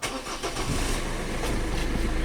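A Renault Megane engine is restarted and settles into a steady, close, loud running rumble with no talking.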